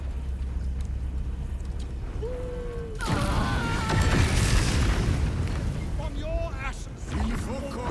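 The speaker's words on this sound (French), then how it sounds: "Des explosions." Heavy booming explosions burst out in the Baldur's Gate 3 video game, a rumbling roar swelling after a few seconds with crackling debris, beneath light game effects and a few short voice sounds.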